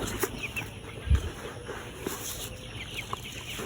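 Young layer chicks in a coop with torn netting, a faint, steady background of soft peeps and clucks with one brief low bump partway through, no talking.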